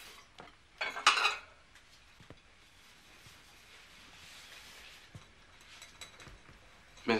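Dishes, pots and cutlery clatter in a kitchen at breakfast time, with a loud burst of clinking early on, scattered knocks after it and a final clank, all under faint background murmur.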